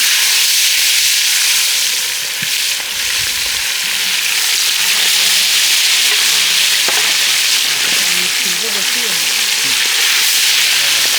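Tilapia fish sizzles loudly in hot oil in a village kitchen, a bright, steady hissing fry heard up close for the whole stretch.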